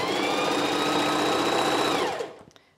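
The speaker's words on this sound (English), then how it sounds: "So I'm gonna start backstitching and slightly pull" A sewing machine backstitches a knit neckband, running in one steady, close, high-pitched whir for about two seconds before slowing and stopping.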